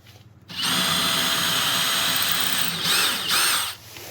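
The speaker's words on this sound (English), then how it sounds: "So I'm going to drill here, here." A power drill whirs steadily into a wall for about three seconds while mounting a solar wall light, loud and close, with a brief pitch change near the end before stopping.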